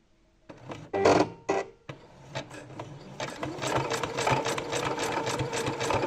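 A sewing machine stitches coat fabric while attaching ribbed cuffs, running in a few short loud bursts before settling into a steady, sustained whir up close, with no talking.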